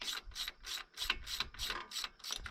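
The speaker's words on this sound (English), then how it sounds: "That plug's a little stubborn, so I'm going to get a socket" A socket ratchet works loose a stubborn, rusty spark plug on a John Deere B tractor: about eight quick, evenly spaced bursts of close, crisp clicking with no talk.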